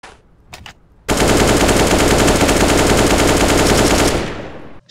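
Rifle gunfire in the video game CS:GO emptying a full magazine: one long, loud, unbroken automatic burst of rapid shots lasting about three seconds, preceded by a couple of faint clicks and no speech.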